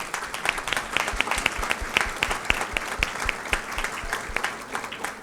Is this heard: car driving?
no